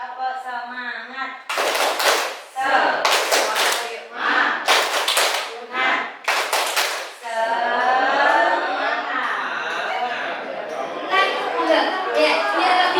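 A group claps a rhythmic Indonesian spirit clap, bursts of sharp claps separated by short pauses, with voices chanting along and continuing afterward.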